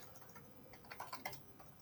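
Fingers tap quickly on a computer keyboard, a faint run of light clicking keystrokes that bunch into a slightly louder flurry near the middle, with no voices.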